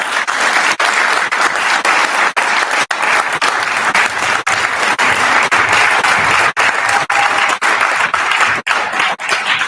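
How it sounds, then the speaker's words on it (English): Loud, sustained applause from a conference audience at a leadership workshop, many hands clapping in a thick steady roar with a few sharper individual claps standing out, no voices over it. "Can you give him another round of applause?"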